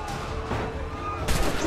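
Gunfire in the video game Assassin's Creed III: a couple of sharp shots burst out close and loud, with someone talking faintly between them.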